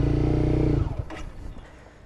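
A motorcycle engine hums at a steady throttle, then changes and fades as the clutch is let out and the bike pulls away, near at first and quickly dropping off.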